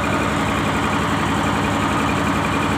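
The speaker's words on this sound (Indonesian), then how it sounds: "ini pakai mesin 6 silinder Fuso itu" A six-cylinder Fuso diesel engine idles aboard a fishing boat, a loud, dense, steady rumble and clatter with no break.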